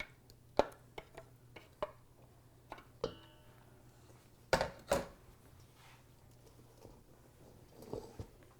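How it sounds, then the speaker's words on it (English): A knife chopping roasted green tomato on a board in a kitchen, a scattering of irregular sharp taps and knocks, fairly close and quiet, with a low steady hum behind. "There's one big one I'm going to take out because I need to chop it some more."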